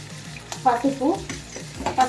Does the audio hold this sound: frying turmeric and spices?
yes